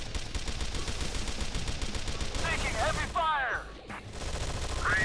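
Sustained gunfire in the video game Anomaly 2, enemies firing at a decoy, a dense continuous rattle of shots with a brief dip near the end, accompanied by short chirping sci-fi effects.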